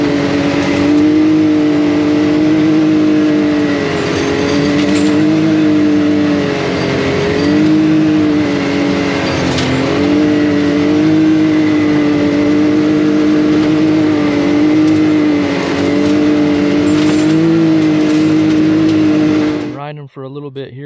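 ATV on System 3 Beadlock SB-7 rims with 33-inch ATX470 tires riding trails, its engine a loud, continuous close drone with shifting revs throughout, cutting off abruptly at the end.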